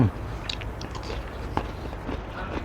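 Close crisp bites and crunchy chewing of an Indonesian salak fruit, a few sharp cracks followed by softer mouth sounds.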